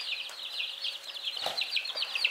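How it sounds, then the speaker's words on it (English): Newly hatched Ayam Ketawa laughing chicken chicks from a small farm flock make rapid, high, soft clucks and chirps. The calls run quickly one after another and sound close but fairly quiet. "laughing chickens from our own small flock"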